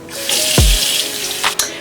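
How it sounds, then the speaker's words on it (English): Tap water runs steadily over a lace wig in a bathroom sink while it is being cleaned. A constant close splashing hiss lasts the full two seconds, with a brief deeper gurgle and a couple of sharper spatters. "So run a little water on it."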